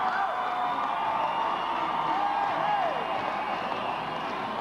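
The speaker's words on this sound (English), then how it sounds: "You can just listen to the crowd." A Camp Randall Stadium crowd at a Wisconsin Badgers football game sends up a sustained wash of cheering, whoops and shouts, steady and moderately loud, with a few brief whistle-like rising tones cutting through the roar.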